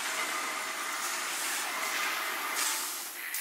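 Train coming through a tunnel in StarCraft II, a broad, steady rushing hiss and rumble at moderate level that swells slightly and then eases, with no voices.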